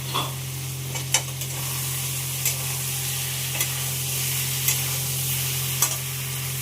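Onion, garlic, ginger, cumin, green chili and ground coriander frying in a pan on a gas stove, a loud continuous sizzle under a low steady hum, with periodic sharp scrapes of stirring.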